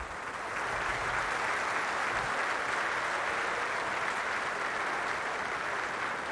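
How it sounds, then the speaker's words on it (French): A ceremony audience at the Merlebach headquarters applauds in a dense, continuous wash of many hands, even and sustained from start to finish with no voices over it. "On vous applaudit."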